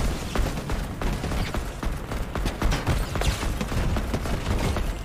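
Rapid bursts of video game gunfire crackle continuously and densely across the whole stretch, a steady barrage of shots with no clear gaps.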